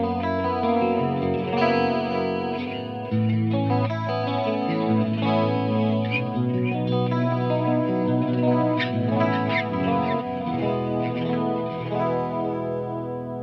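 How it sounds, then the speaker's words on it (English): Clean electric guitar played through a Marshall TSL 100 amp with chorus and delay pedals engaged, giving a shimmering, echoing sustained tone; steady, loud chords and notes ring continuously with no talking. "I'm going to turn on my Julia chorus and my Flashback 2 delay and see what we got."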